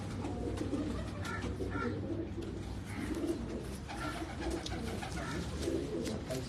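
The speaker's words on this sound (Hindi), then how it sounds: "ये कमाल कबूतर है" Pigeons from a loft of striped and cross-bred birds cooing repeatedly, soft rolling coos rising and falling in a loose rhythm close by, over a steady low background hum with no talk.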